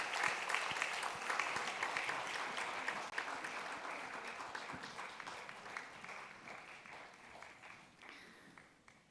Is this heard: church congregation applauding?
yes